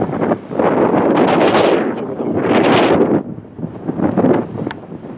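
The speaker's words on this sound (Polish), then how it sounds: "Duży wiatr jest. Strasznie duży wiatr." Strong mountain wind on a hike to Kjerag, Norway, buffets the microphone in loud, rumbling gusts that surge and ease over several seconds, with no talking.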